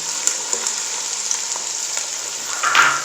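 Sliced potatoes frying as carrots go into the pan for Chinese rice, giving a steady close sizzle with soft stirring scrapes and a brief louder burst near the end.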